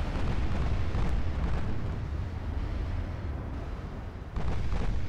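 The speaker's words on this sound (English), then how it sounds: "Just fire the main guns at that little thing." Warship main guns firing in the Ultimate Admiral Dreadnoughts naval video game, heard as a sustained, heavy rumbling boom that stays loud throughout, with a fresh surge near the end.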